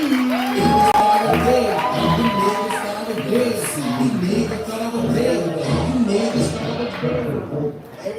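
A live poetry-night audience cheering and whooping for a poet, a sustained loud crowd roar with shouts and some clapping, fading slightly toward the end.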